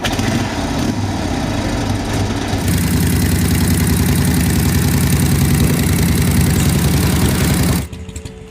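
Harley-Davidson WL flathead V-twin motorcycle engine running steadily and loud up close, a coarse rumbling throb that picks up slightly partway through before cutting off near the end.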